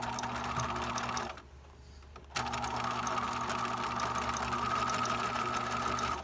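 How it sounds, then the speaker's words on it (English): A sewing machine runs a topstitch seam, a steady loud mechanical whir broken by a short pause midway before stitching resumes, close and without talk. "And then I'm gonna sew again."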